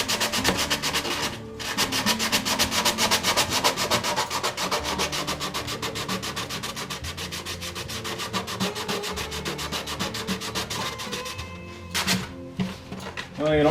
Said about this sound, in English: You've seen people sand before.